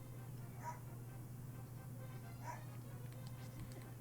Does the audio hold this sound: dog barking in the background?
yes